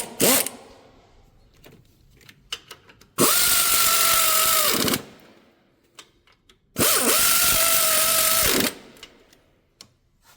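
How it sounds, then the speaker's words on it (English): Power tool or ratchet driving alternator bolts on a 2008–2010 Ford F350 6.4 Powerstroke: two loud sustained whirring bursts of about two seconds each, separated by quieter clicks and handling noise, no talk. "We're going to snug these up with our ratchet"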